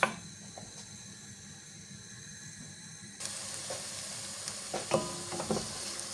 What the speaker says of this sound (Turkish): Güzelce kızartıyoruz.